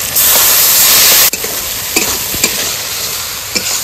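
Tempering spices with tomato, turmeric, radhuni paste, green chilli and ginger fry in hot oil, a steady loud sizzle with a burst at the start and scraping stirs of a spoon in the pan.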